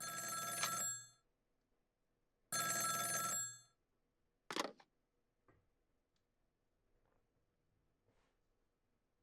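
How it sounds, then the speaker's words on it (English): A telephone rings twice in the video game Ghost Trick: Phantom Detective, two bright electronic bursts about a second apart, followed by a sharp click and faint ticking, with no talk. "It's the phone!"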